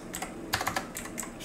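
Quick, light keystrokes on a computer keyboard, a short burst of clustered taps, close and clear with no talking.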